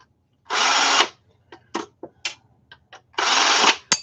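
A power drill runs in two loud, close whirring bursts of about half a second each, separated by a series of short clicks and taps, with no talking.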